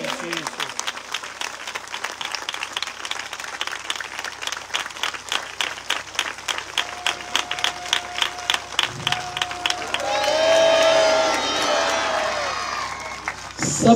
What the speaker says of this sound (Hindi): अपने दोनों हाथ उठा के जोरदार तालियां दी भेंट यीशु मसीह को अर्पण कर दी।